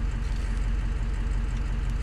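A car engine idling just after starting up, a steady low rumble holding evenly for a couple of seconds with no talk over it.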